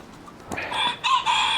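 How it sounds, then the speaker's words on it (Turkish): A dominant farm rooster crows close by, one loud drawn-out cock-a-doodle-doo rising in two strong pulses, with no talk over it. "Raptor halinde baskın bir horoz."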